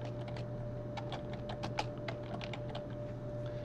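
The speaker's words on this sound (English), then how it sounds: "I can now type in my title." A title is tapped out on a computer keyboard, quick irregular clicks up close over a low electrical hum.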